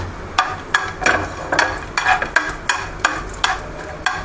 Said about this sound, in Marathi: पहिले चारोळे टाकते गरव हे भाजायला.